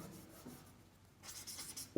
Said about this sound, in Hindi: सुभाष को ऐसे लिखते हैं, सुभाष चंद्र बोस